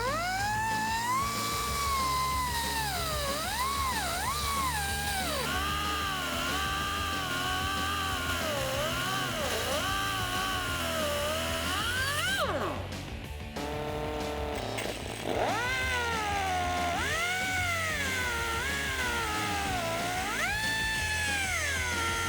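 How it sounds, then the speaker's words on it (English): An abrasive cut-off wheel grinds fins off a 2014–2018 Silverado 1500 differential yoke, giving a loud, continuous high whine that rises and falls in pitch as it bites into the metal, with a short break partway through. "So we're going to take a cut-off wheel and we're going to cut most of these off."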